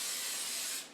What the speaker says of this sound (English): you could use just an olive oil cooking spray to season up those veggies